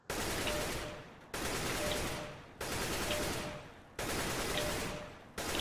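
Rifle gunfire in CSGO aim training, four long, loud automatic bursts in a row, each sustained about a second before briefly stopping, close and dense.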